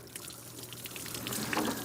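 Water pours and trickles out of a milk jug that has been shot through with a handgun round, a short, steady splashing stream that grows slightly louder toward the end, heard outdoors with no talking.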